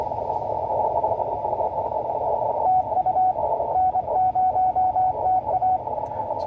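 An amateur radio station sends CQ and its call sign in Morse code, a steady keyed tone pulsing in dots and dashes over a constant band of radio hiss and noise.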